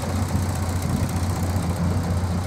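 A 1936 Morgan 3 wheeler with a rebuilt 1172cc four-cylinder engine runs at a steady idle, a close, even low throb with a fine pulsing beat and no voices.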